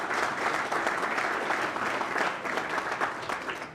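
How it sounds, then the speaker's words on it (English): A banquet audience at a county bowling association hall of fame dinner gives a round of applause for the master of ceremonies, a steady, dense wash of many hands clapping at even loudness throughout. "Please give Mike a round of applause."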